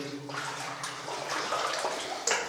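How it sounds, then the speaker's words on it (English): Water sloshing and splashing continuously as someone wades through freezing, deep water inside an old mine, a close, steady churning with a sharper splash near the end. "So here we are in freezing deep water. It's getting deeper and deeper."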